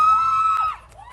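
At a gravel bike race, one loud, sustained high whooping shout rises and then drops off, followed by a fainter rising call, like cheering from a spectator nearby.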